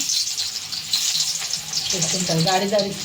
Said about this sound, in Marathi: तेल गरम झालेलं आहे. त्याच्यामध्ये आपण थोडे लसूण टाकूया.